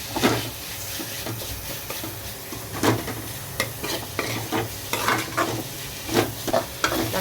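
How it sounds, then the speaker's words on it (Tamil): Onions and tomatoes with turmeric sauté in a pan, a continuous close sizzle broken by frequent spatula scrapes and taps on the pan. "வெங்காயம் வதங்கினோடனே தக்காளி போட்டு நல்லா மஞ்சள்தூள் போட்டு நல்லா வதக்கிட்டு"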